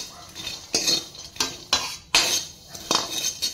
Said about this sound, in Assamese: বাদামখিনি বাকলিটো যাতে গাৰ পৰা ভালকৈ এৰাই যায় তেনেকুৱাকৈ ভাজিব লাগিব